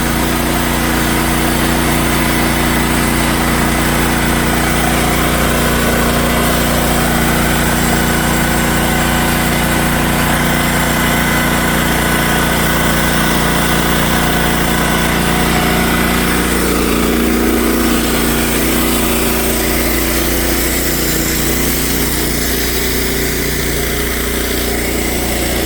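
A Wood-Mizer LX55 sawmill's engine runs steadily and loudly up close, a continuous droning hum with a slight shift in tone partway through, no talking.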